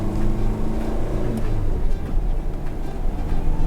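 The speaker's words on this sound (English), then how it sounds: "What do you think about the engine sound," The small engine of a 1987 Yugo 55A runs with a low, steady drone, its throaty hum fluctuating slightly as it idles and revs mildly, close and fairly loud.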